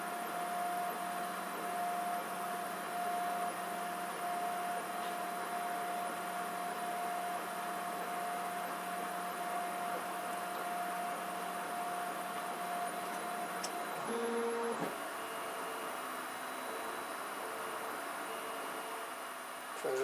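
A 3D printer running a vertical test piece inside a server cabinet gives a steady muffled hum with a faint constant tone, then shifts pitch and motion near the end as the print moves change.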